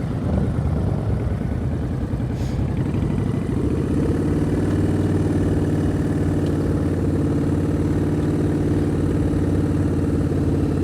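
A motorcycle engine idles and runs at low revs through slow-speed riding drills, a steady near rumble with a rising, fuller tone after a few seconds and no talk over it.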